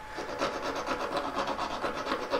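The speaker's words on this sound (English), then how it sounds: "Don't want to file out that knobbly bit I've got in there" A model tree branch being filed by hand, a rough rasping rub in quick regular back-and-forth strokes, close and fairly loud with no talk.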